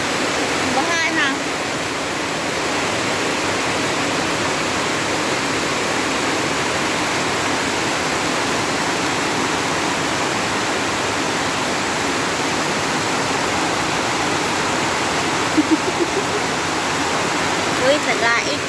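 Floodwater after rain on a rural road that has turned into a stream, a constant loud rushing hiss filling the scene without a break; faint voices are briefly audible underneath.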